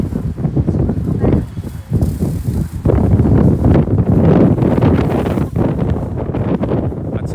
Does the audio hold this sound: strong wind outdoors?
yes